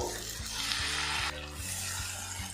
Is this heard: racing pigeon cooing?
no